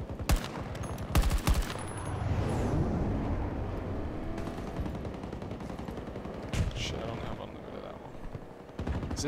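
Single-fire assault rifle shots in Battlefield 2042 during a boat battle, sharp loud bangs at scattered intervals over a rumbling engine and battle din, with a voice talking through part of it.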